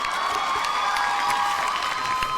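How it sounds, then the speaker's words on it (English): A small crowd cheers and claps at a live podcast taping, a brief burst of whoops and applause kept at steady volume throughout. "A round of applause."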